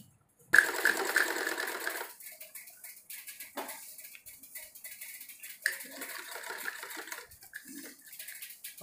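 A sewing machine runs close up, joining a waistband to the pleated panels of an embroidered salwar, with a loud opening burst followed by steadier, softer stitching runs and small handling noises.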